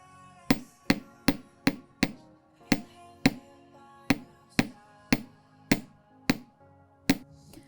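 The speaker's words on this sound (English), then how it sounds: "So you'll notice that through the hammering process" Sharp metallic hammer strikes on jewelry wire for a pearl necklace, about fourteen blows in a steady, unhurried rhythm with a brief pause midway, close and clear.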